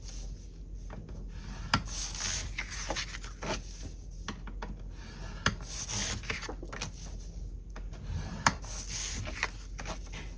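Light scratching and rubbing as paper cards for an album are scored at half-inch marks, a steady soft dragging texture with scattered small taps, close by and quiet, no voices.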